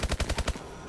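Rapid bursts of automatic gunfire from a favourite gun in the video game AW Exo Zombies: about six evenly spaced punchy shots close together, then stopping abruptly into quiet game ambience.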